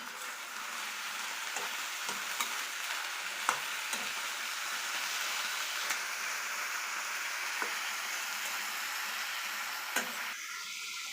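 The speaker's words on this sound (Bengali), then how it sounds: "এই যে আলুটা ঢেলে নিলাম" Loud, constant frying hiss of potatoes in a pan, with occasional scraping clicks of a spoon stirring through them, close up and without voices.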